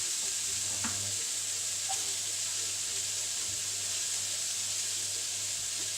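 Chopped mushrooms fry with garlic and onion in a pan, giving a steady, close sizzling hiss throughout with an occasional faint stir.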